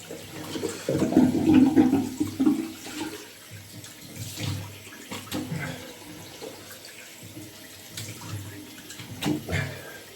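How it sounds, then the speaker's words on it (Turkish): Running tap water splashing as a face is washed at a sink during a wet shave, a louder gush early then intermittent splashes and dripping, close up, with no speech. "Yüzümü yıkıyorum arkadaşlar."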